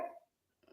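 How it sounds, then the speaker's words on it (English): A single short dog bark sounds at the very start, soft and distant behind a quiet room, followed by a brief fainter noise near the end. "Whoever just barked, agreed."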